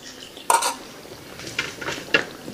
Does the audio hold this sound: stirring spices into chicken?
yes